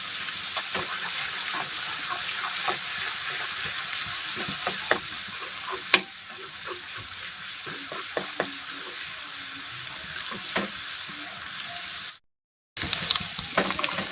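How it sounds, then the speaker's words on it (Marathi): Crushed garlic fries in hot oil for a cluster bean (gavar) vegetable dish, giving a steady close sizzle broken by light clicks and scrapes of stirring, with a brief dropout near the end. "आता लसूण छान असा तेलामध्ये छान तळून घ्यायचा आहे लाल सरंग येईपर्यंत"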